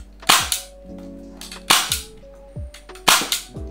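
An Xshot Kickback toy blaster fires Xshot air pocket darts, giving three loud, sharp snapping shots at roughly even intervals, each followed by short mechanical clicks and rattles as the blaster is primed, all close up with no voices.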